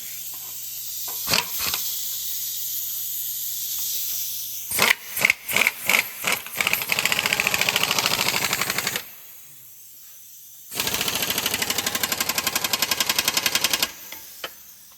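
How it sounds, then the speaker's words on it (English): A wrench runs down an exhaust flange bolt on a 2009-2010 Toyota Corolla during catalytic converter replacement, with a few sharp taps and then two long, loud bursts of rapid mechanical ratcheting separated by a brief pause. "Okay, now I'm gonna run this other side down. I'm probably gonna need a wrench."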